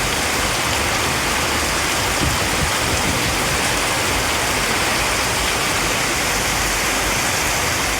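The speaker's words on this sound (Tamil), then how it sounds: "புதுக்கோட்டையில் 1 மணி நேரத்திற்கு மேலாக பெய்த கனமழையால் சாலையில் வெள்ளம் பெருக்கெடுத்து ஓடியது" Heavy rain pouring for over an hour in Pudukkottai with floodwater rushing along a road, a dense, loud, unbroken hiss of rain and flowing water filling the whole scene, no voices.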